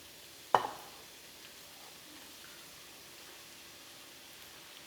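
Peppers and onions tipped into a pot for cabbage soup give a sharp clatter and thump, followed by a soft fading rustle and faint kitchen hiss, then a second brief knock at the end.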